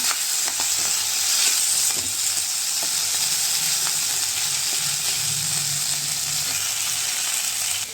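Fish fries in a pan with spices over a gas flame, giving an even, close sizzling hiss with occasional small pops and crackles and no talking.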